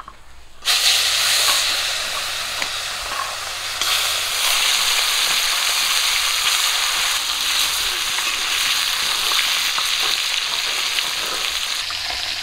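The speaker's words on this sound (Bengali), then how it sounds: "বাকি মাছগুলো ভেজে নেব।" Rui fish frying in hot oil for a curry with taro root and parwal, a loud, close, hissing sizzle that bursts in suddenly and holds strong and steady to the end, without any talking.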